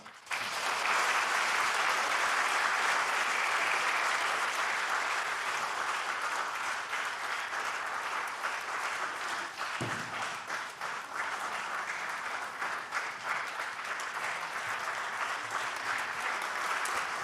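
A church audience at a Korean Holiness church invitation festival gives a welcomed guest long, sustained applause, a dense, even wash of many hands clapping that fills the hall for well over fifteen seconds without pause.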